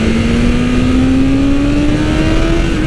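A 2020 BMW S1000RR motorcycle accelerates hard in second gear, its loud engine note climbing steadily in pitch as the revs build, steady and close with no talking.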